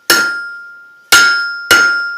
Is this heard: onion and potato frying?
no